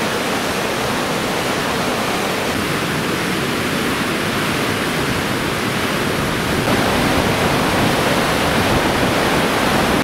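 Ravnfossa waterfall in Iceland roars as a steady, dense rush of falling water, loud and unbroken throughout, with no voices.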